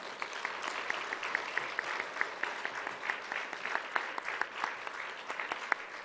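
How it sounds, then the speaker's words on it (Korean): A church congregation claps after a closing prayer at a teachers' lecture, a moderate, fairly distant patter of many hands with sharper individual claps standing out over the crowd. "우리 다시 한번 박수하겠습니다"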